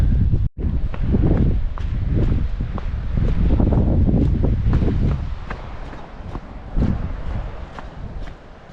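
Strong wind buffets the microphone in heavy, rumbling gusts on a coastal walk, with some rustling and a few footsteps beneath it.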